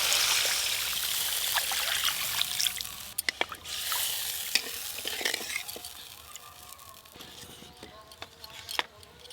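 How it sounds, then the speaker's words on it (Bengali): Water poured into sizzling fried spice masala in a pan while it is being stirred, a steady hiss and trickle with scraping clicks, close and continuous, fading slightly toward the end. "মশলা তো কষানো হয়ে গেল, এবার জল দিয়ে দেব।"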